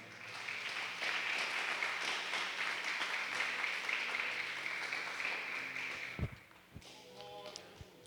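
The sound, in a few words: congregation applauding in church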